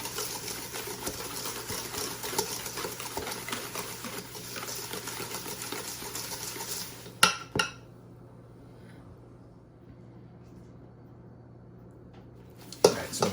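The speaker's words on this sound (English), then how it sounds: "I'm going to whisk it up. This is gonna get the sugar to dissolve." Rapid, rhythmic clinking of a whisk beating oil into sugar in a bowl, steady and busy for several seconds, then stopping with a couple of louder knocks against the bowl.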